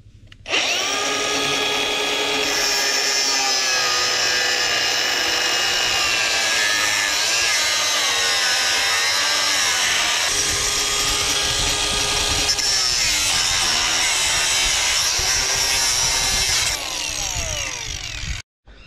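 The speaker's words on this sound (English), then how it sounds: "So I've finished cutting the lugs off." A power tool cuts lugs off metal panels in one long, continuous, close run. The whine is high and grinding and shifts in pitch as the blade works, then stops abruptly at the end.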